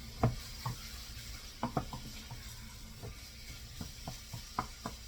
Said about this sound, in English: I will mix it well until it gets coated with that vegetable paprika mixture